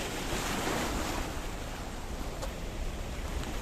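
Mediterranean Sea waves wash over rocks along the Paphos seafront in Cyprus, a loud continuous broadband surf roar with some wind buffeting the microphone and no speech.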